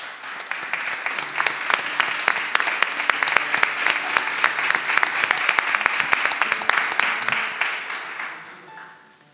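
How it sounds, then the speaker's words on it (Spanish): An audience gives sustained applause at a community evening of Canarian women's song, dense clapping with sharp individual claps standing out, holding steady before fading at the end. "Un aplauso, por favor"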